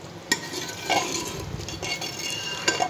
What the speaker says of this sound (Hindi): ये गोश्त गल गया है, अब इसको भून रहे हैं गोश्त को।